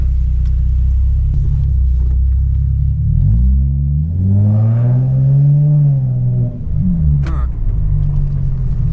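A 2013 Infiniti G37 sedan in Sport mode on a test drive, its engine rumbling and rising in pitch as it accelerates, then settling back into a steady low drone with road noise throughout.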